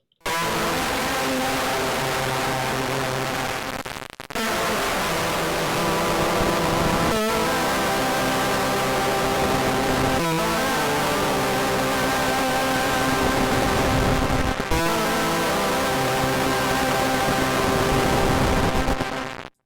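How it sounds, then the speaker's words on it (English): Recovery Effects Bad Comrade pedal in stutter mode, producing fuzzed-out distortion delay: a dense, buzzing, sustained wall of gritty tone with repeating choppy breaks and occasional dropouts, loud and continuous without talk. "We'll turn on the stutter mode."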